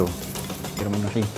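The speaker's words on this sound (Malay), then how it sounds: "Ni dia apa dengar tu bunyi bawang putih crispy jatuh atas daging tu." Crispy fried garlic tumbles onto beef frying in a pan for Pattani-style fried beef, giving a close, steady sizzle with stirring clatter, and a voice speaks briefly at the start.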